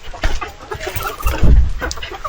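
Heritage chickens cluck and murmur nearby on a farm in a busy, irregular chatter, with scattered bumps and rustling mixed in.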